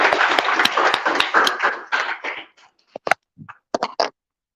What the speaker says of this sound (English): So big round of applause for Omama.